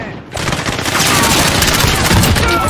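Dense, continuous automatic gunfire in the video game Warzone with a PKM and MP7 loadout, loud rapid shots blending into a steady roar after a brief quieter start.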